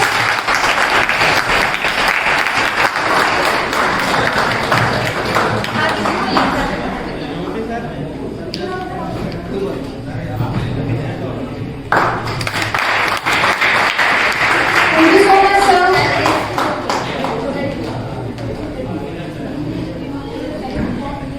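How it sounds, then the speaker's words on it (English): Loud audience applause at a college fest at Rajkiya Engineering College, a long dense wave of clapping from a large crowd with chatter and talk underneath, dipping midway before rising again. "Audience, please give a big round of applause"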